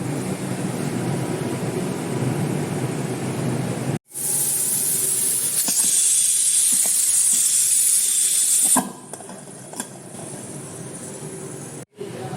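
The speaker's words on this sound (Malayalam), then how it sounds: "നോസിലിൽ കൂടെ ആവി വന്നതിന് ശേഷം മാത്രം വെയിറ്റ് ഇടണം" A loud, steady hiss of steam from a pressure cooker nozzle before the weight goes on, cooking a jackfruit curry, runs almost continuously, briefly cutting out twice and shifting in intensity midway.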